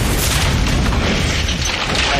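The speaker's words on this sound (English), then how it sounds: "Before suddenly an explosion rings out." A deep, rumbling boom of an explosion that sends wood flying, a single sustained blast that fills the space loudly from start to end with no speech.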